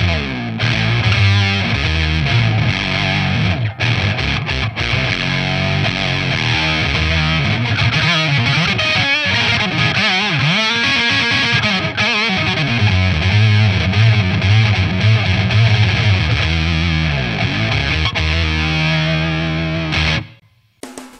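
An electric guitar runs through an MXR M-288 Bass Octave Deluxe with a Distortion Plus pedal, giving thick, dirty distorted riffs with deep octave-down layering, loud and continuous before cutting off at the end.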